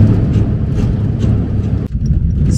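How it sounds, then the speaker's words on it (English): A car rolls along a 25-kilometer cobblestone road to Real de Catorce, a steady low rumble of tyres and cabin drone with uneven bumps, briefly dipping near the end before resuming. "So the road to and from Real de Catorce is a 25-kilometer cobblestone road. It's actually in good shape. A little bumpy, as you can hear."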